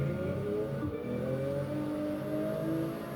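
A Nissan Skyline GT-R R34 engine running steadily nearby, a continuous low rumbling drone with a slight shift in pitch near the start, no voices.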